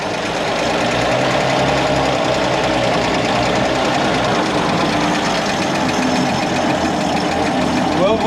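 A heavy World War II Bedford QL army truck engine runs continuously with a rough, rattling drone, loud and close, with no pauses.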